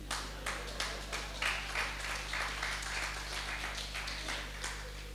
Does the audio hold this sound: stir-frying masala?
no